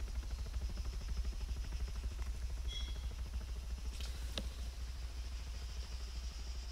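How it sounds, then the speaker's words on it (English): Helicopter in Arma 3 flying by at a distance, a faint steady low rotor drone with a soft rhythmic chop that lingers throughout without rising sharply. "Yeah, I think the chopper's flying by."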